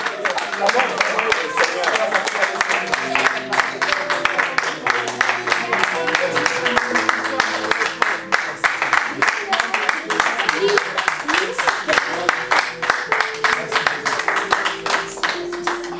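A church congregation applauding: steady, rapid clapping from many hands that keeps going throughout, with music and voices underneath.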